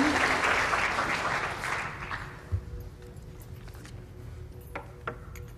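Audience applause welcoming a lecturer to a Wednesday afternoon lecture series, a steady wash of clapping that fades out over a few seconds into quiet room noise with faint shuffles.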